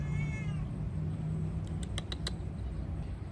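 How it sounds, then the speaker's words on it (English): A cat gives one short, clear meow close by at the start, followed by faint rustling and a few light taps against a low indoor hum. "My cat's about to come up here."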